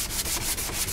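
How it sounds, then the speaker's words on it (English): Sandpaper rubs vinyl off a motorcycle fairing on a Benelli restoration, a close, steady scraping that rises and falls in quick repeated strokes. "Once I get down through the vinyl, I'm literally sanding the vinyl here."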